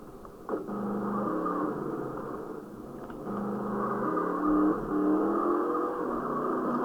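Car engine revving in GTA San Andreas, a steady loud motor drone with rising and falling pitch as the vehicle accelerates, heard alone without talk.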